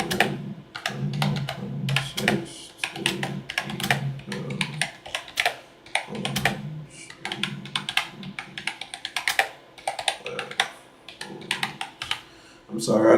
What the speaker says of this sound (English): That man be typing hella fast.